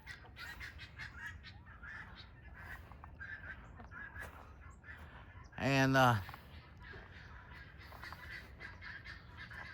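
Quiet outdoor background with faint talk, then a single loud, nasal honk from a nearby duck, followed by more low background sounds.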